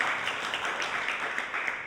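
Audience applause at a Jain monk's religious discourse, a steady, dense wash of many hands clapping, close and fairly loud, sustained evenly for the whole stretch with no voice over it.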